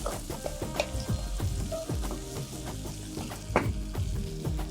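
Lima beans and onion sautéing in a pan, a busy close crackle and sizzle with repeated ladle scrapes and clinks against the metal, loud and dense throughout with no voices.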